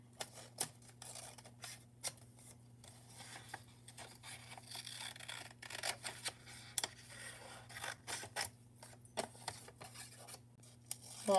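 Scissors snip and crunch through a paper map in quiet, irregular cuts and rustles, faint and close, over a low steady electrical hum.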